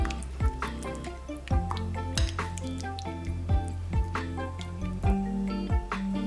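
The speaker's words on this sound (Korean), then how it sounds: "내용물이 고루 섞이도록 잘 저어주세요." Cherry tomato pickle with hand-torn basil stirred in a container, giving a steady run of soft wet squishes and light ticking taps at a regular rhythm, close and quiet with no talking.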